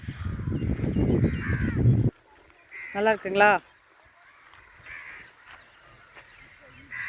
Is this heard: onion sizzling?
no